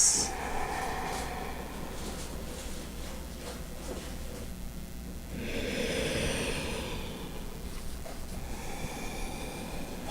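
Slow, calm breathing during a yoga session, long soft inhales and exhales with nasal airflow, close and quiet, one fuller breath midway, no talk.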